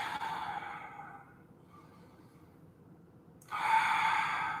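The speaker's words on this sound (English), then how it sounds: "Deep breathing." Deep breathing during a yoga practice in an extended warrior variation: a soft exhale, a quiet pause, then a fuller breath, close and faint with no talking.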